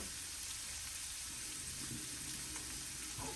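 Peppers and onions sizzle steadily in a pan, a soft continuous frying crackle with faint stirring scrapes, close and fairly quiet with no talking.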